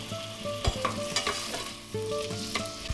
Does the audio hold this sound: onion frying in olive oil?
yes